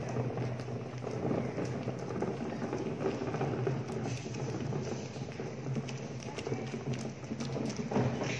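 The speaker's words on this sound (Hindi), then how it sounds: "कचरे वाली उसका गाड़ी धकल के ला रही है, ये उसका आवाज़ है।" A garbage collector's cart is pushed along a street in the early morning, giving a continuous rattling, clattering roll with irregular knocks nearby.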